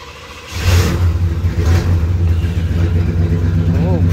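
A 1988 Chevrolet Monte Carlo SS engine, on a T-top car, jumps from a low idle into a loud, sustained rev that holds steady and close for several seconds.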